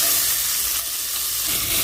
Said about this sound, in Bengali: তেলটা গরম হয়ে এসেছে। এখন আমি অ্যাড করে দিচ্ছি পেঁয়াজ কুচি।